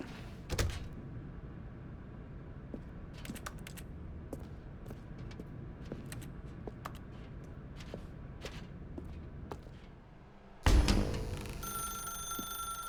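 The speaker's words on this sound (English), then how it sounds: "Now pick up the phone." A telephone rings in The Stanley Parable: Ultra Deluxe, a series of short bright rings repeating at a steady pace over quiet room tone, followed by a loud thud and a shift in ambience near the end.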